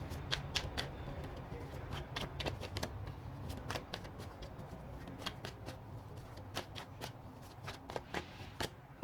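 Tarot cards are shuffled by hand in quick, crisp riffles and flicks, a rapid train of close, papery snaps over faint room noise.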